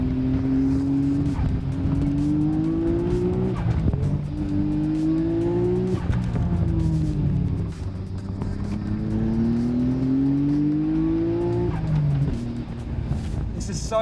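Nissan GT-R on new coilover suspension driving over bumps, engine note rising and falling steadily through gear changes, loud and close from inside the car, with a voice talking over it.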